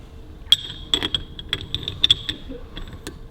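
Gears fitted onto the countershaft of a 1942 Harley Davidson WLA gearbox during a rebuild, giving close, light metallic clinks and ticks at an irregular rhythm over a low, quiet background.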